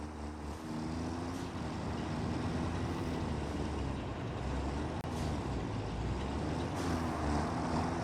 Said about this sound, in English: He is riding the tractor.